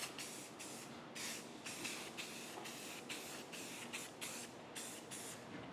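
Rust-Oleum gloss dark gray spray paint hissing from a can in short repeated bursts, about a dozen even pulses with brief gaps, close and fairly quiet, onto lathe apron parts masked off with tape.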